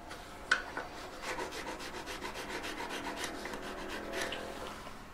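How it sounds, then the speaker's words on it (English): A needle file is rubbed back and forth across a small metal piece for necklace making, producing a rhythmic rasping of about a dozen quick strokes, close and clear. "A needle file. Make sure you're filing it nice and flat"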